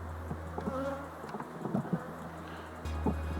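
A single bee hums steadily close by near a hive, a continuous buzz that swells and dips slightly as it moves, with faint background noise and no voices.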